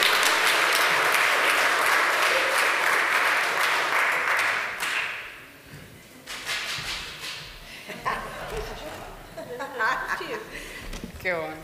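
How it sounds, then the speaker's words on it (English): Church congregation applause during a Sunday service, a dense clatter of clapping for about five seconds that fades out, followed by scattered voices and a dog's yips and whines. "Give them a round of applause."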